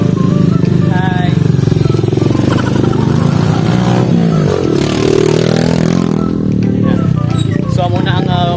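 A motorcycle engine drones loudly and steadily on a rough rural road to Cabatangan, Lambunao, Iloilo, with rattling and scraping, close to the rider, under occasional talk.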